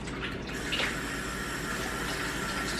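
A tablespoon of water is poured during kitchen prep, a short splashy trickle up close that lasts under a second, followed by faint running-water hiss, with no talking.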